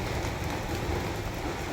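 Heavy rain falls in a steady hiss with a dense patter of drops, a brief continuous wash at an even level with nobody speaking.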